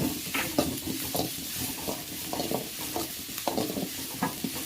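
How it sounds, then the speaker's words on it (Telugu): Carrot and long-cut green chillies stir-frying in a pan for veg fried rice, a steady sizzle with repeated scraping and stirring strokes, close and continuous, no talk. "పచ్చిమిరపకాయలు వేసుకొని ఇలా ఫ్రై చేయాలి"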